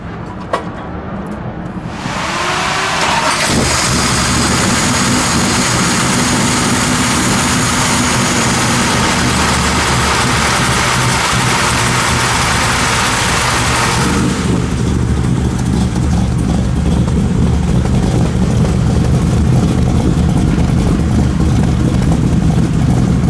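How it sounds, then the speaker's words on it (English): A 1957 Chevrolet Bel Air's engine cranks and catches, then settles into a rough, loud idle before a few throaty revs swell and fade back down. "We'll start it up. We'll let it idle."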